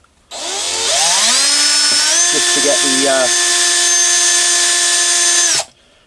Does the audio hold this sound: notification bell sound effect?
no